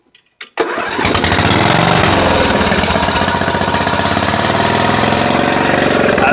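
A carbureted engine cranks briefly, then catches and settles into a loud, steady, rapid-firing run out of gear, with no talk over it.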